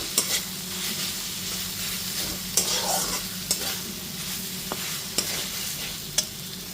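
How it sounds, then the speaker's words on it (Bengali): Ginger, garlic and green chili paste fries with onions in a pan, a continuous close sizzle broken by several sharp scraping strokes of a spatula at irregular intervals. "আদা রসুন আর কাঁচা লঙ্কা বাটাটা খুব ভালো মতো পেঁয়াজের সাথে এইবার কষিয়ে নেব।"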